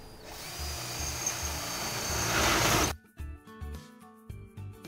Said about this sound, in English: Use the leg as a template and drill a new mounting hole.